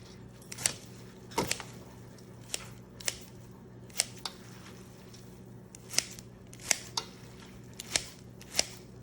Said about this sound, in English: Once you drain it, you want to cut the noodles.